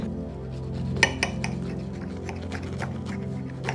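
Cutlery clinks and scrapes against a plate while a chip shop chicken and mushroom pie from the air fryer is cut down the middle, with one sharp clack near the start and softer taps after it, fairly close and with no talking.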